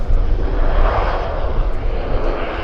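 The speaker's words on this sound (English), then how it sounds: "We've got a Dreamliner taxiing out, heading to Hong Kong" A Boeing Dreamliner airliner taxis out at Vancouver Airport, its engines giving a loud, steady jet roar and whine that holds throughout with no talk over it.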